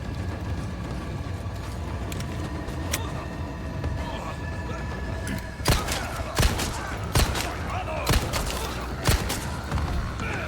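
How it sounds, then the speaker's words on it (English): Gunfire in the video game Resident Evil 4: a handful of sharp, separate shots spaced a second or so apart, rising over a steady background of game ambience in the second half. "as I just walk down and shoot them"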